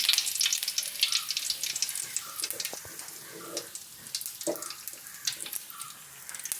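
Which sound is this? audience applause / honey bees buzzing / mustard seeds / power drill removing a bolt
mustard seeds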